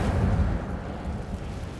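An Incendio fire spell from Hogwarts Legacy gives a short, dense whooshing burst of flame with a heavy low roar that eases slightly over under two seconds.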